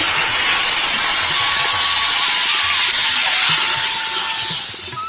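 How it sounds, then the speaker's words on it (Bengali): Water poured into a hot pan of spiced Pabda fish curry sends up a loud, steady steam hiss that fills the whole stretch and eases slightly at the end, with no talking. "পরিমাণ মতো জল আমি দিয়ে দিলাম"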